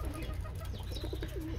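A pigeon coos softly near a cleaned-out nesting enclosure where its chicks are kept, with low repeated coo notes over a constant background hum.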